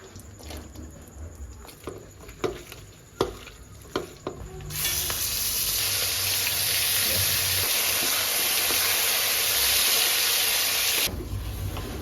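Chicken and banana flower cook with ghee and coconut in a pan, with sporadic clatter from stirring early on, then a loud, steady sizzle of frying that holds for several seconds before easing.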